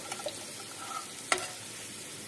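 Onions fry and brown in a pan, a faint, steady sizzle with a single sharp clink of a spoon partway through.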